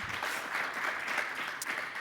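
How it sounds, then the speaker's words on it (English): An audience at a banking business dialogue applauds its panelists, steady dense clapping filling the whole stretch at moderate loudness with no voices over it. "Won't you please give them a big round of applause?"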